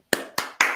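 Three sharp hand claps ring out close by at an even pace in a quiet room, each with a short echoing tail, clapped to clear energy.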